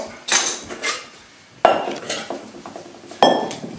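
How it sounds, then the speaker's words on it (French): Containers being taken out for making homemade nuggets: three sharp clinking knocks of dishes set down at intervals, each ringing briefly before fading, close and clear with no talking. "Maintenant je vais prendre 3 récipients."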